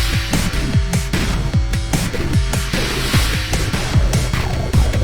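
A dense electronic music track with a boss-theme feel, driving synth arpeggios and pulsing beats, where heavy sidechain ducking pumps the mix and swallows the bass line, playing loud and steady without any voice.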